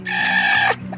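An Aseel hen clucking during hatching, one close, sustained vocal call lasting most of a second with a low steady hum beneath it.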